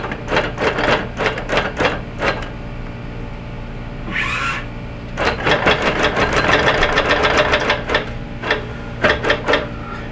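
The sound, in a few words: quilting machine stitching straight lines with soluble thread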